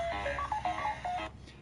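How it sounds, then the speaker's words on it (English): A mobile phone rings with a short melodic ringtone, a series of quick, clear tones at moderate volume that stops abruptly near the end. "That is my phone"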